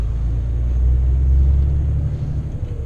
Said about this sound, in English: especially in the truck, you can hear the turbo whistle